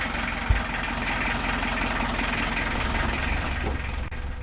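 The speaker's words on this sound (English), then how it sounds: "You can hear it's an old London taxi engine." An old London taxi engine fitted in a narrowboat idles with a steady low rumble and faint knocking, close and moderately quiet, with a brief thump near the start.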